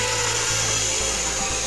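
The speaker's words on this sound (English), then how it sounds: "The tension is audible in the ropes and the wood." Ropes and timber of a reconstructed ancient Roman wooden crane creaking and straining under a heavy load, a steady grinding rub with a faint low pulse, no talking.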